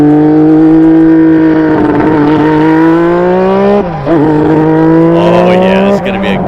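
A McLaren Honda MP4/4 Formula 1 car engine roars loud and close, its high harmonic whine holding steady then briefly dipping and climbing again as it revs, with a speaking voice underneath.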